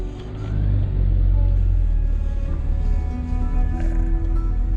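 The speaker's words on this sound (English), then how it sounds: "there's a Land Rover now, he's got a gearbox for going up vertical" A Land Rover climbs a steep off-road slope at Murlough Bay, County Antrim, its engine a loud, close, low rumble that builds and holds under strain, with faint outdoor noise around it.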